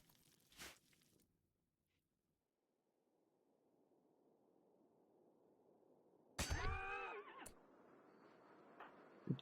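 A horse in the medieval-themed RimWorld video game gives a loud, clear whinny with a wavering, falling pitch partway through, after a soft thud early on and over a low, steady background hiss. Nobody speaks.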